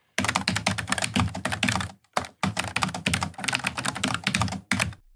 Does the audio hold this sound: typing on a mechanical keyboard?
yes